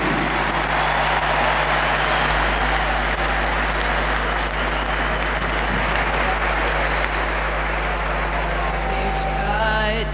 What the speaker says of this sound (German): Bitte großen Applaus für Lasse Petri